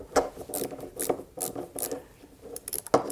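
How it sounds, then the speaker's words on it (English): Gas key fasteners on an AR15 bolt carrier are loosened with a tool, giving short rasping, ratcheting scrapes in an irregular rhythm, close and distinct with no talk. "we will try to just loosen up the fasteners here as shown"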